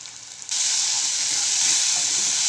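A spice masala of salt, chili powder, coriander, cumin and pepper powder hits a hot pan for an egg curry, bursting into a loud, steady sizzling hiss that holds without a break, with no talk.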